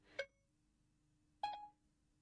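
A phone's Siri voice assistant activating: two short, bright electronic chimes about a second apart, quiet and isolated over a faint low background hum.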